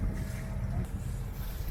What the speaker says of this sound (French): ça fait 3 heures là qu'on navigue au moteur parce que le vent est nul